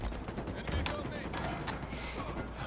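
A Halo Slayer match carries scattered gunshots at moderate distance, a few sharp cracks standing out over a busy, steady game backdrop.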